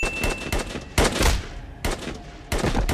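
Loud gunfire from a sniper rifle in an action film scene, several sharp cracking bursts with echoing tails, spaced about a second apart.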